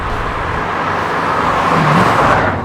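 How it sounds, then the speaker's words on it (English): A rare 1970s Australian Force 7 muscle car with an all-aluminium 4.4 litre V8 pulls hard under acceleration, a loud steady engine drone with a rising tone near the end. "I tell you what, it's got some poke, this little engine."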